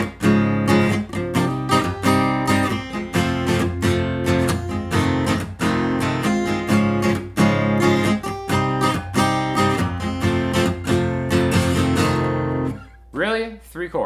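An acoustic guitar strums the chorus chords of a song in a steady, bright, rhythmic pattern, close and loud for about thirteen seconds before the strumming stops and a brief, quieter sound follows.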